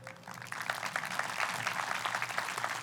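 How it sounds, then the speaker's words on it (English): Audience applause at a school graduation and promotion ceremony, many hands clapping that build quickly after a brief quieter moment and hold as a dense, even patter. "Please give a round of applause to Karen Freeman"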